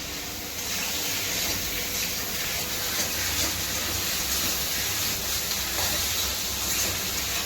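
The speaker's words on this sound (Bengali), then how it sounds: "একদম চিকেনটা একদম লাল হওয়া পর্যন্ত ভাজবো, তারপর মশলা দেবো।" Chicken pieces frying in hot oil, giving a loud, steady, broadband sizzle that starts suddenly and runs unbroken and close throughout.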